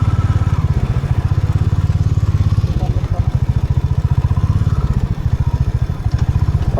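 A motorcycle engine chugs close by in a steady, rapid pulsing rhythm while the bike is ridden along a rough track toward a river.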